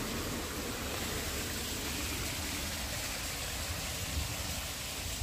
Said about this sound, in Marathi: अजून पण वरनं पाणी पडतंय.